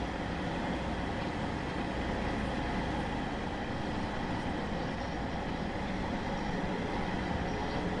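A Class 150 diesel multiple unit in Arriva Trains Wales livery pulls out of Penzance in Train Sim World 2, giving a steady, even rumble of engine and rolling wheels with no talking.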